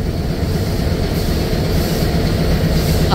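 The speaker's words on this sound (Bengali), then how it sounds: "এই সাইডে দেখতে পাচ্ছি একটা ট্রেন ছেড়ে যাচ্ছে" Up close and loud, a train in Bangladesh pulls out of the station with a dense, continuous rumble of wheels and carriages rolling past, with no voices.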